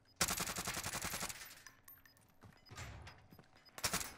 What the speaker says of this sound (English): he's shooting at me, Tig